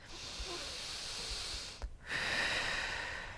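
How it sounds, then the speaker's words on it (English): A slow relaxation breath during a postpartum core exercise, heard as a long, steady airy inhale and exhale with a brief gap partway through, close and alone. "Start with a relaxation breath"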